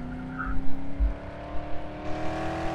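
A car engine drones steadily while driving in the Dead Island video game, with a sustained hum and low thumps, close and alone.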